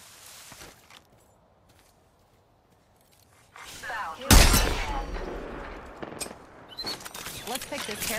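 Gunfire in a shooter video game, arriving after a near-silent lull as a loud close burst followed by scattered shots and rattling, with voice chatter and movement sounds around it.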